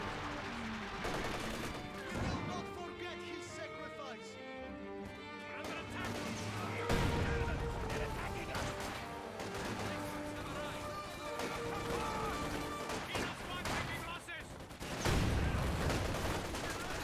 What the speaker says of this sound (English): They have recovered from the suppression, but they immediately find more machine gun bursts